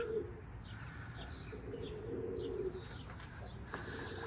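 Pigeons coo softly and repeatedly at close range during a pigeon flying session, low throaty calls over faint outdoor background chirps.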